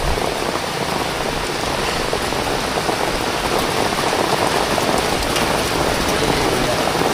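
Steady, dense typhoon rain pattering loudly on a surface, a constant close hiss with no breaks, in Infanta, Quezon province.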